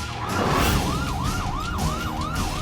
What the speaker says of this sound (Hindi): पुलिस की सायरन की आवाज सोसाइटी कंपाउंड से आ रही है।